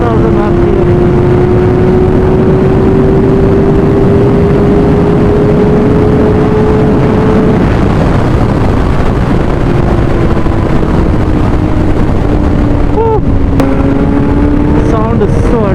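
A 2024 Kawasaki Ninja ZX-6R engine screams past 10,000 RPM, its pitch climbing steadily, dropping at a gear change, then climbing again, all under heavy wind rush.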